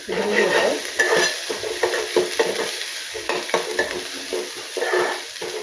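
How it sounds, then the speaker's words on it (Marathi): A very hot cooking pot hisses and sizzles as water is poured in to wash it, a loud, continuous crackling spatter with irregular bursts throughout. "भांडं खूप तापलं होतं म्हणून ते आता धुवून घेतो"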